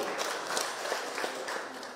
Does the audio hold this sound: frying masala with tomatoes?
no